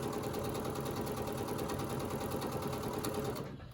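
A sewing machine stitches quilt pieces in a steady, fast mechanical chatter that runs evenly and close, then eases off at the very end.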